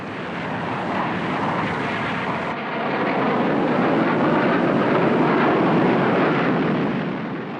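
Vietnam War archive footage of MiG jet fighters in air combat over Hanoi and Haiphong: a loud, continuous jet roar swells and rushes past, with a cut partway through and rumbling blast-like surges, no voices.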